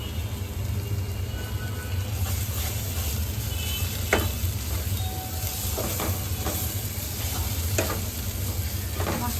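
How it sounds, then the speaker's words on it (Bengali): Spice paste for chicken curry fries and sizzles in a pan, with a steady hiss and occasional stirring scrapes and taps, close and even throughout, with no talking. "মশলাটা একদম ভাজা ভাজা করে"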